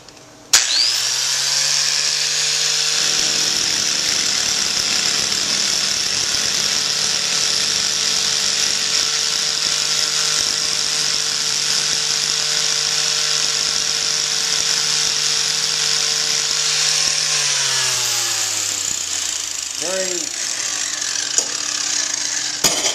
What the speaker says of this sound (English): now I'm going to do some grinding on that